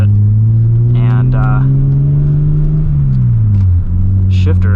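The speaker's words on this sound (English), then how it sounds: "This is a very easy car to drive." A 1995 Ford Probe GT with a 5-speed manual gearbox drives along, its engine giving a steady, loud low drone that dips briefly near the end as it shifts, with a voice talking over it.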